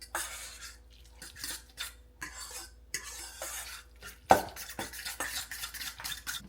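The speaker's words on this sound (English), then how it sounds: "Then I put in my egg. Mix it all up real good here." An egg is mixed into ingredients in a bowl, heard as irregular scraping, tapping and clinking of a utensil against the bowl, with one sharper knock partway through, close and fairly quiet.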